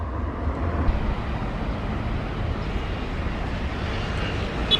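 An Airbus A220 lands, its jet engines giving a steady, distant broadband roar with a low rumble throughout and no talk.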